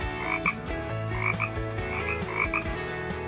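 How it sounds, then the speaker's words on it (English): A frog croaks in a steady, repeating rhythm, each call a short burst that comes back about every second. It is close and loud, with no talking over it. "Frogs say ribbit ribbit."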